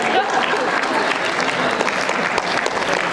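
At a communication association Hall of Fame awards luncheon, the audience breaks into warm, continuous applause, many hands clapping at a steady level, with a voice faintly mixed in.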